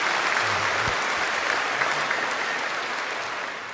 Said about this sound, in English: We're definitely in the applause phase